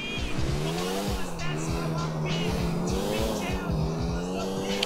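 A car in the video game GTA 4 drives fast and loses grip, with a loud engine drone and repeated squealing tire skids. Someone talks over it in places.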